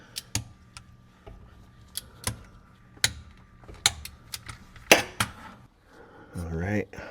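A ratchet torquing the differential plug on a 2007 Mercedes E350 (W211), giving sharp, loud metallic clicks spaced about a second apart, close up, followed by a brief rattle at the end.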